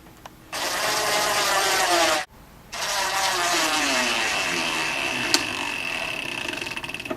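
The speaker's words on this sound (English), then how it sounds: "and screw it into place" A 1/2-inch flathead screw being driven into an L bracket on a JSI lazy Susan corner cabinet with a power drill: two sustained whirring bursts split by a short pause, close and loud, with no talking.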